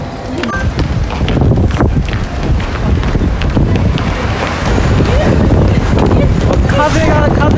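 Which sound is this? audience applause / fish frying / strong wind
strong wind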